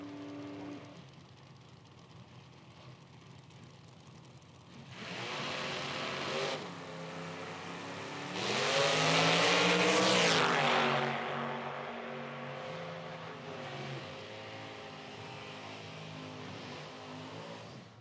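Engines of a drag race pairing, a 1979 Fox body on the left lane against a 1974 Camaro from Rising Sun, Ohio, at an IHRA Outlaw Nitro Series event, building from a low idle to a loud, sustained roar that peaks then tapers off.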